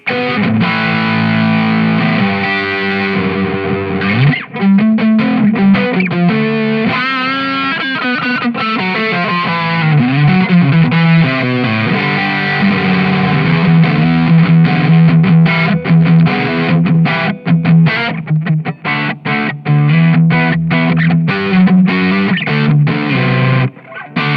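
Heavily distorted electric guitar through a Boss OD-2 Turbo overdrive pedal plays loud, sustained chords and riffs with a thick, fuzzy overdriven tone, continuous throughout.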